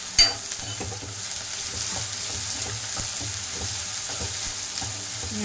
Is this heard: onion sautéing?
yes